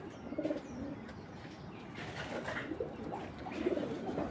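Racer pigeons give soft, low cooing calls in a few short bursts, faint and close, over a quiet background with occasional light chirps and no talking.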